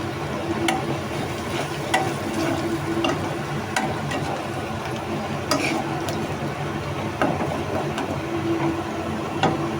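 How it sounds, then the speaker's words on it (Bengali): Onions and green chilies fry steadily in hot oil, a continuous close sizzle with scattered crackles and occasional utensil scrapes through the whole stretch. "পেঁয়াজ আর কাঁচামরিচ হালকা ভাজা হয়ে গেছে"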